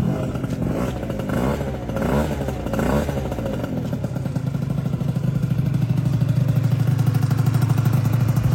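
An MBK Nitro 70 scooter engine idles steadily while warming up, a loud, close two-stroke buzz that starts with a few rhythmic surges of throttle, then settles into a constant, slightly rising drone.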